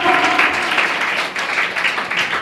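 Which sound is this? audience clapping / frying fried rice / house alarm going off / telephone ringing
audience clapping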